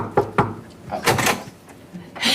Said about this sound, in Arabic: خبط على الاوضه دي ليه؟